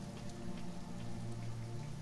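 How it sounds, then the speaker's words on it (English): Steady rain falls in the survival game Sheltered, a dense continuous patter that holds at an even moderate level throughout, with a low steady hum underneath and no voices. "Oh, rain! Finally!"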